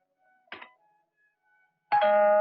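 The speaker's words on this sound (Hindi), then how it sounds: "मगर तुमने ये घंटी कैसे बजाई?" After a soft knock or click, a doorbell chimes once, clear and ringing, its tone holding steady to the end.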